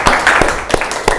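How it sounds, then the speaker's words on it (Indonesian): A class of students claps hands together in a classroom, a few sharp separate claps spaced apart rather than a dense ovation, fairly close and loud. "Oke, kita tepuk tangan semuanya sama-sama."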